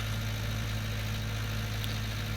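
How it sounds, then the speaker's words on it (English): A tractor engine in Farming Simulator 19 drones steadily with a deep, constant low rumble as it labours up a climb, loud and unbroken with no voices. "It's pretty painful on those climbs, I'm not going to lie, in this tractor."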